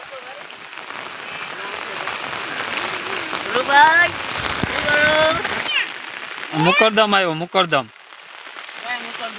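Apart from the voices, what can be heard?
heavy rain falling on a flooded street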